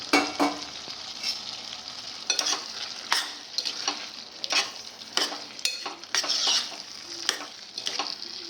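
Cucumber pieces sizzling as they fry in a hot pan, with repeated scraping strokes of a spatula stirring them at an irregular rhythm, close and clear with no voices.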